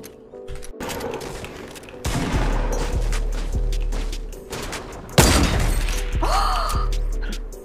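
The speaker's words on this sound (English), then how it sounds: "He sniped me" Several sharp gunshots crack in Fortnite, with one especially loud, sudden shot that stands out from the others, amid scattered game effects and a brief voice.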